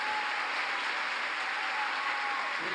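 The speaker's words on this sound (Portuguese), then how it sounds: "Aplauda mais forte" Steady, even applause from a church congregation, a continuous wash of clapping heard from a slight distance, with no voices over it.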